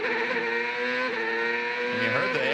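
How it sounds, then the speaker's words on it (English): A 2002 CART race car engine revs hard on cold tires with traction control engaged, heard onboard as a loud, steady high-pitched drone that climbs sharply near the end. "You heard the engine rev, even with the traction control."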